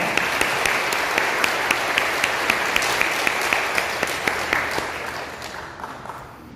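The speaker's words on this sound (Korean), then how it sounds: "살아계신 하나님께 감사와 영광의 박수 올려드리겠습니다" A church congregation claps together in sustained applause, a dense steady patter of many hands that holds strong before gradually thinning toward the end.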